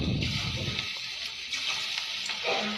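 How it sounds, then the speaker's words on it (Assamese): Pakoras frying in hot oil in a black wok, a steady close sizzle and crackle that holds throughout with a few brief splashy bursts and no talking. "এতিয়া কেৰাহীত তেল গৰম হ'ল বাবে"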